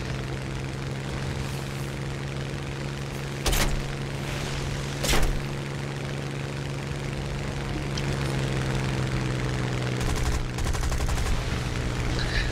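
Aircraft guns fire in the War Thunder video game over a constant engine drone, with a couple of short bursts early on and denser rattling fire toward the end.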